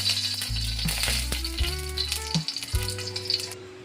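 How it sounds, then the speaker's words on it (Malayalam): Mustard seeds splutter in hot coconut oil with a steady sizzle, scattered sharp pops and crackles rising over it, close and fairly quiet, and no voices. "ഒരു നുള്ളു കടുക് ഇട്ട് കൊടുക്കുക."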